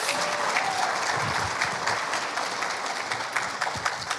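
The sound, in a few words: applause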